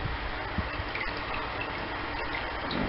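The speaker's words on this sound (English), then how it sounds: "So now the lovely Dawn's going to pour it." Sugar water, about six cups prepared for homemade amaretto coffee liqueur, is poured in a steady gushing stream, continuous and fairly loud, with no talking over it.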